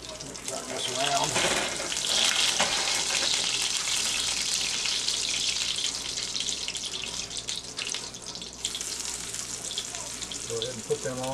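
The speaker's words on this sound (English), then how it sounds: "And we'll start these frying here." Steady, close sizzling and crackling of morel mushrooms frying in a hot pan, with a constant hiss throughout.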